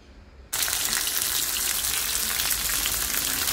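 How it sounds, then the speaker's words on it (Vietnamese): Lemongrass stir-frying in a pan, a loud steady sizzle that bursts in abruptly and holds close and continuous, with no talking. "mình bỏ xả vô rồi mình xào cho nó thơm"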